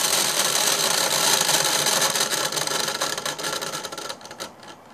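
A dual-motor Nerf dart flinger prototype runs with its meshing gears making a loud, dense, steady whir that holds for several seconds, then begins to wind down and fade near the end.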